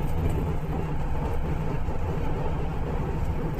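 Steady low engine drone inside a nearly empty bus riding through the Taurus Mountains in Turkey, a continuous deep rumble with road noise and no speech.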